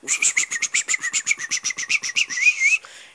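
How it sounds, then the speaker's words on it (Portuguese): Freed birds give a loud, close run of rapid, evenly pulsed chirps that lasts about three seconds and ends in a whistling trill, with no talking over it. "me perdoe por esses pássaros mal amados"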